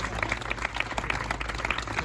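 Scattered applause from a small crowd at an Italian political campaign gathering, greeting a regional councillor, moderately distant with a brief voice underneath.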